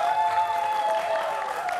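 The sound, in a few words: applause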